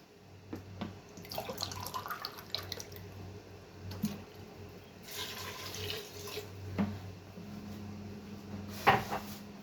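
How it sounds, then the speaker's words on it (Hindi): Two cups of water poured into a beef, cauliflower and cabbage curry in a pressure cooker pot, a close running splash with kitchen clatter and a few clicks, no talk. "अब मैं इसमें 2 कप पानी ऐड कर दूंगी।"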